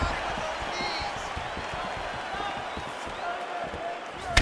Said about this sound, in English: That was a thudding leg kick.